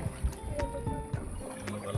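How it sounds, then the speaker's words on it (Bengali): A shikara boat is rowed on Dal Lake in Kashmir, its paddle dipping in soft, repeated splashes and knocks at a steady rhythm, faint against light wind and water noise. "লোকাল কাশ্মীরি লোকরা, মহিলা নিজেরাই নৌকা বেয়ে চলেছে।"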